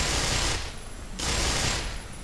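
An automatic rifle in the video game Black Mesa fires two loud sustained bursts separated by a short pause, each a dense rattle of rapid shots with no voices over it.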